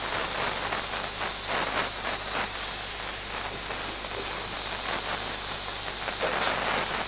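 A steam gun on textile gives a continuous, loud, sharp hiss with a faint whistling edge, steady and close without pause and no voices.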